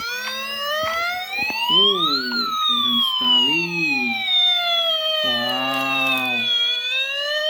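A toy fire engine's electronic siren wails in rising and falling sweeps, close and fairly loud, with a second two-tone warble layered in, while someone speaks excitedly over it.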